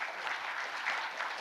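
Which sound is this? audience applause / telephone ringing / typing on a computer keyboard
audience applause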